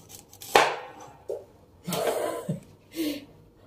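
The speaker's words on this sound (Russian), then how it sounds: "Значит, нарезаем капусту" A knife slices a head of cauliflower into thick steaks on a board. A few sharp close-up cuts and thuds land at irregular intervals, separated by quiet handling and rustling.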